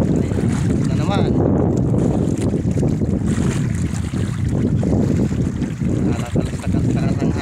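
Strong wind roars across the microphone on a fishing boat at sea, with water washing and a steady, loud rush throughout.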